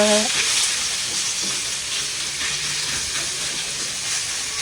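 Pork fat frying in a pan as it renders out its oil, a steady loud sizzle and hiss that runs throughout, with a brief tonal clink near the start.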